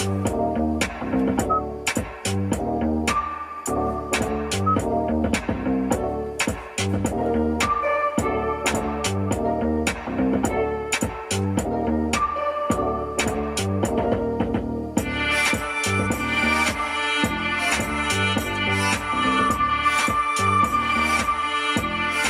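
Music pumping through the replacement Meridian amplifier and speakers of a Kia EV6 GT Line S, with a steady thumping beat and dense instrumentation at a full, consistent volume that grows brighter and busier in the final seconds, no voices.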